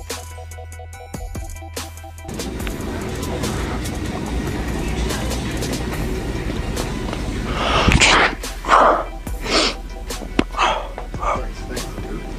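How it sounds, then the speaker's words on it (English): A sneeze bursts out from a person pretending to have the flu, amid a cluster of sharp breathy bursts, close and loud, with voices and background noise around it. "I didn't mean to sneeze."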